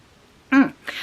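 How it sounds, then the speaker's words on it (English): A single person's sneeze, one sharp, loud burst at close range, followed by a short breathy exhale. "I need to sneeze"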